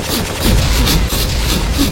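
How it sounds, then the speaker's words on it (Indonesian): Cartoon booger pistol gunshot effect from an animated fight, a rapid burst of several punchy shots in quick succession, loud and close. "Tembakan pistol upil"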